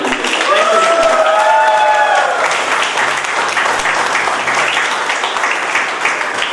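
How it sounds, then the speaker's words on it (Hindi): A crowd applauding loudly and continuously, dense clapping that fills the room and carries a few cheers near the start. "एक बार भगवान के लिए जोरदार तालियां।"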